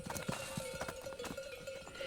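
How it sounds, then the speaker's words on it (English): A pure Spanish horse clip-clops steadily on hard ground, its hoof strikes moderately loud over a constant background hum. "mount is a pure Spanish horse"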